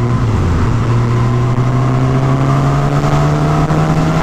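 A 2019 Suzuki Katana four-cylinder motorcycle accelerates up close, its engine note loud and steady with a rising, continuous drone throughout.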